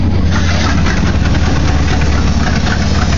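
A 1964 Chevy Impala state patrol car, left sitting for years, runs close and loud with a steady rumbling idle after starting, with no talk over it.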